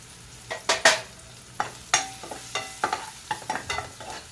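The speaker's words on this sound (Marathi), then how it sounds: "तर आता कांदा भाजत आलेला आहे त्याच्यामध्ये आपण आता कांदा लसूण मसाला आपला हा आम्ही घरी केलेला स्पेशल तो घालत आहे" Onion frying in a pan as homemade onion-garlic masala is added, with a spoon stirring and scraping in a dozen or so irregular clicks and scrapes over a soft background sizzle, close and moderately loud.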